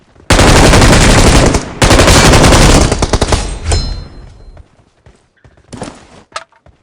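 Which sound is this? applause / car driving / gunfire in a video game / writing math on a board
gunfire in a video game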